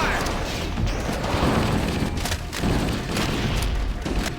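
A deep, rumbling boom from a grenade blast in Halo fills a dense wall of battle noise, heavy and close with continuous low roar and scattered impacts.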